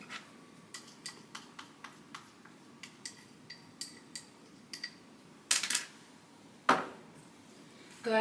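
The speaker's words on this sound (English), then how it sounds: "Go ahead and mix it up." Muffin batter ingredients stirred in a bowl, a run of soft, regular ticking taps of a utensil against the bowl, ending with a few louder scrapes and knocks, close and without talk.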